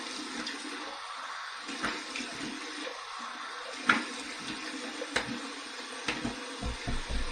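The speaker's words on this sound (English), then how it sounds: "Cold water rinse." Tap water runs for a cold rinse after a shave with a menthol shave soap, a steady broadband splash with intermittent louder splashes and handling bumps, fairly close, with no talking.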